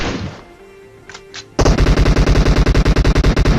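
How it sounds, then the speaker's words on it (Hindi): Rapid automatic gunfire in a shooter video game, a loud sustained burst of evenly spaced shots starting abruptly after a quieter stretch with a couple of brief faint pops. "लेकिन अगेन अब फायरिंग होनी स्टार्ट हो जाती है"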